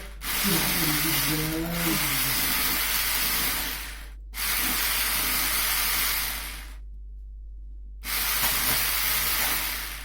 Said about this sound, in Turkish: Toz şekerli yumurtamızı şu an blenderda